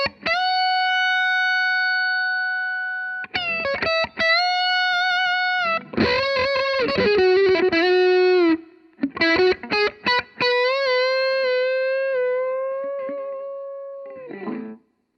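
Single electric guitar notes ring out through a Kinsmen Ethos overdrive pedal, some held long with vibrato, others picked in quick runs, with short gaps between phrases.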